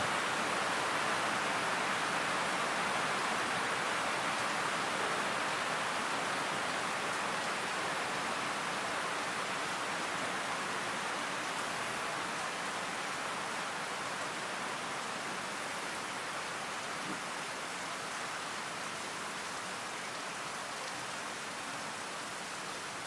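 Steady rain falls in a dense even hiss, constant and fairly loud throughout, with no voices.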